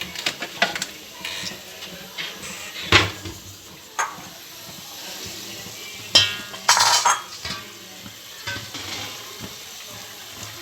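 A spoon clinks and scrapes sharply against a pan and bowl while palak chicken is served, with scattered metallic taps over a wet, stirring background.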